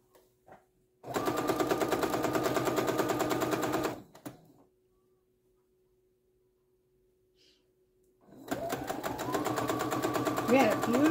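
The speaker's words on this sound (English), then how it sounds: "So I'll sew these together." A sewing machine stitches fabric scraps together in two loud, rapid mechanical bursts of a few seconds each, separated by a quiet pause with a few small clicks; a voice is faintly present.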